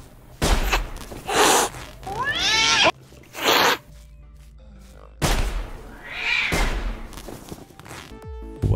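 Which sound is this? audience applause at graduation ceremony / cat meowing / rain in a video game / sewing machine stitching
cat meowing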